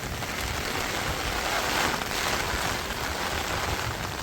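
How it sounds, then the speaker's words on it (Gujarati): Light rain falls steadily in a city street during the monsoon, a continuous soft hiss of drops with gentle wind, even and unbroken throughout. "ધીમો વરસાદ છે એટલે પાણી ભરાણા છે પણ ઓછા."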